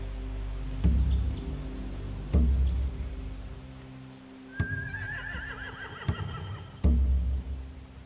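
Horses neigh and whinny in The Walking Dead video game, several loud, sharp calls spaced a second or two apart, some near and some farther off, with hooves shuffling and thumping between them.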